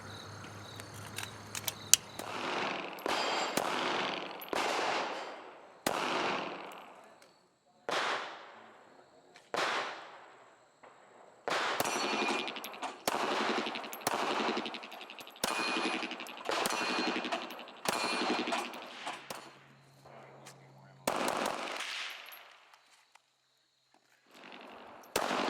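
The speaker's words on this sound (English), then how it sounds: "We put a couple of rounds through the Glock 42," A Glock 42 .380 pistol fires at an outdoor range: a long, irregular series of sharp, loud reports, some single and some in quick pairs, each with a short ringing tail and brief pauses between strings.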